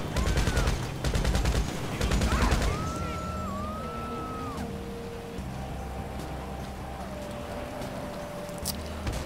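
An unsilenced, unupgraded Kalashnikov fires in GTA Online with rapid, loud automatic bursts in the first few seconds. Quieter game ambience with tonal electronic tones follows.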